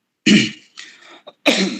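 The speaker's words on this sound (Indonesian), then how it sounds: "Mohon maaf batuk." A couple of harsh, close coughs, with a short throaty rasp between them.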